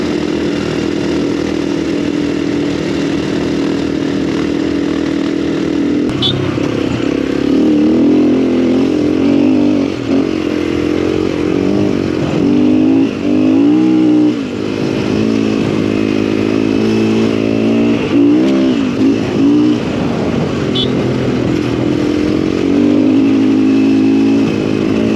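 Motorcycle engines drone and rev steadily for a long stretch on a dirt track, rising and falling in pitch as the bikes accelerate and ease off.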